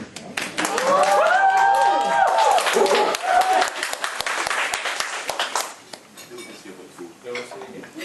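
Audience at a university entrepreneurship event claps as speakers come on stage, a burst of fairly close applause that fades out, with voices over it.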